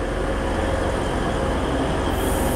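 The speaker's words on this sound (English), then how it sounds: "approaching platform number 3 now is a class 185, 185, 145" A Class 185 diesel multiple unit, 185145, arriving at platform 3 at Oxenholme on a service from Windermere, gives a loud, steady, close rumble with rail noise that continues unbroken throughout, and no voices are heard.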